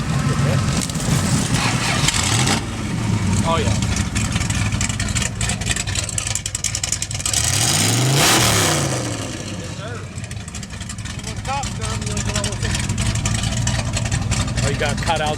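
A pickup truck engine with exhaust cutouts routed through stacks runs loud and close at a car meet, rising in a rev around the middle before settling back to a rough idle, with people talking over it.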